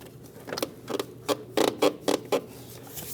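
A spring hose clamp on a 2016-2025 Chevrolet Malibu 1.5L L4 is pinched and the coolant hose pulled off the plastic reservoir bottle. Close, irregular creaks and squeaky scrapes come in short bursts, with no talking.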